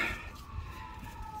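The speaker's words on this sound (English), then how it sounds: "you can hear the sirens in the background because this is Los Angeles" A faint siren wails steadily in the distance over low background rumble in Los Angeles.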